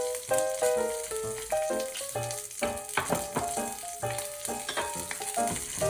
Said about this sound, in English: Just sizzle them a while in the oil.